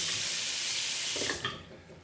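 Tap water runs hard and steady into a sink to rinse a razor during a shave, then cuts off with a couple of light knocks and drips at the end.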